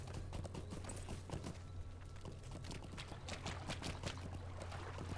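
Horse hooves clip-clop steadily in the video game Lord of the Rings Online, a continuous quick rhythm of soft thuds over a low ambient hum, fairly faint and with no talking.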